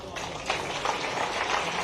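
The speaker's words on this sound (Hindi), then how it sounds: "एक बार जोरदार तालियां।" Applause from a crowd at a ceremony at the Chief Minister's residence honouring Kranti Gaud of India's world-champion women's cricket team: steady, dense clapping that swells slightly, with a voice mixed in.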